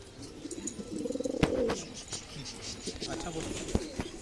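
A male high-flyer pigeon coos in a soft, rolling, repeated gurgle, close by, with a few wing flaps and someone talking over it.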